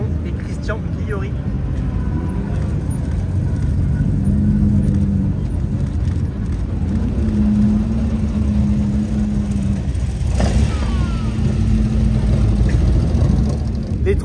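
Jaguar Type E Series 1 with a 3.8 litre engine running on a race circuit, its steady engine drone continuous throughout under a loud crowd or commentary, with brief tonal swells as the car passes.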